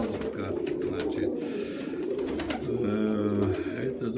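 Pigeons coo in a loft, soft low rolling calls repeating close by and overlapping, with someone talking faintly underneath.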